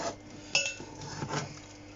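Mashed potato being scooped into a dish in a home kitchen, with a soft scrape and a sharper clink of utensil on the dish near the middle, over faint background noise.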